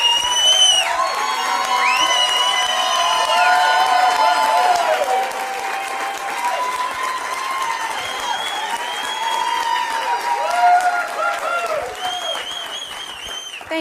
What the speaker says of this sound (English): All the claps and applause.